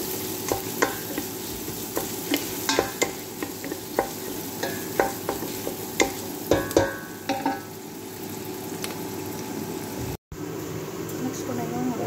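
Food sizzles and fries steadily in a pan while being browned to golden for a home-cooked lunch, with scattered stirring scrapes and clinks up close and some talk over it.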